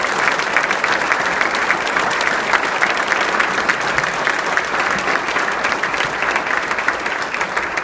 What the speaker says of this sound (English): And I think she deserves a round of applause as well.